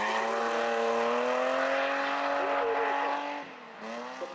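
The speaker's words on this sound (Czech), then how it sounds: "hlavně slyšíte ten zvuk toho motoru" A drift car's engine at the Czech Drift Series in Brno holds a loud, sustained high-revving note, then dips briefly and climbs again, close and continuous.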